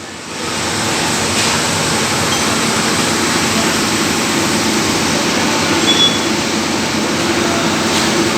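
A suspect pulley on an engine V-belt drive, with idler and tensioner pulleys nearby, running steadily and loudly, giving a continuous broadband whirring roar that holds constant for the whole stretch without speech.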